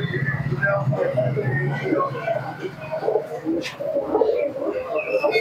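Pigeons coo in a pigeon shop, with several birds making soft, overlapping throaty calls close by while someone talks over them.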